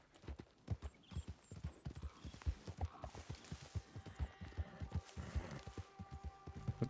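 Horse hooves clip-clopping in a video game, a rapid steady trotting rhythm of close, crisp hoofbeats continuing throughout with faint background game sounds.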